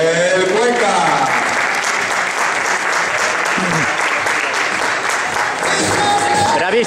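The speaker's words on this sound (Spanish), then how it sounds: "recibimos con una fuerte ovación car número 55, Miguel Cuenca" Loud, sustained applause from a crowd at a karting championship as driver number 55 is welcomed, with dense clapping throughout and voices talking over it.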